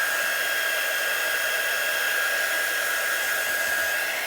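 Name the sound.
quick dry heat tool drying a craft project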